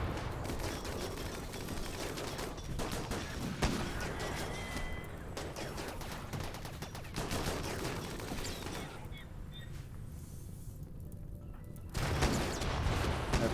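Mechs in RimWorld open fire in a battle, and sustained rapid gunfire with dense overlapping shots and booms roars almost without a break throughout, loud and close.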